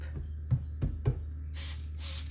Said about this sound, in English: Spray a little bit and then put it on.